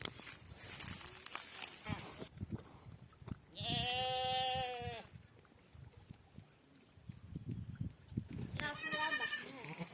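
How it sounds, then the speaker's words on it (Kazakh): Young goats on a farm bleat in the evening. One long, wavering bleat sounds near the middle and a shorter, higher one comes near the end, over rustling and shuffling farmyard noise. "Үш лақ бар мына жерде."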